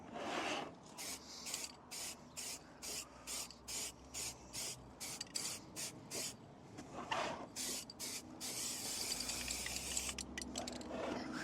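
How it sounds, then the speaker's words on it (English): A can of spray paint hisses in a regular series of short bursts while a prop Rogue One Rebel helmet is coated outdoors on a windy day, then sprays in longer continuous passes toward the end, close and clear. "I probably waste a lot of spray paint being outside"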